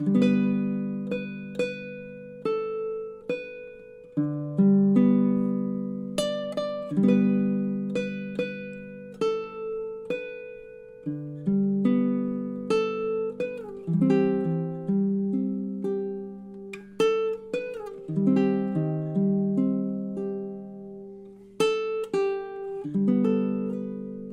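D: Baritone ukulele plays a song's melody with loose rubato timing, plucked notes and chords ringing and decaying one after another, clear and alone at moderate volume.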